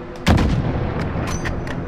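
Rifle fire in the first-person shooter Call of Duty: Modern Warfare, a single heavy boom landing sharply near the start and rolling out into sustained low rumble, followed by fainter reports and battlefield noise.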